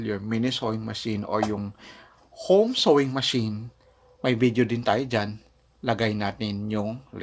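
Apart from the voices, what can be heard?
None of the usual background noises is heard.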